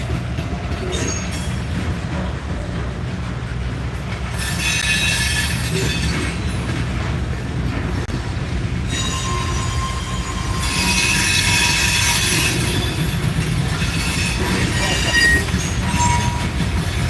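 A freight train rolls along a pass-through track, its wheels clacking and squealing in a steady, fairly close rumble that swells louder partway through, with no talk over it.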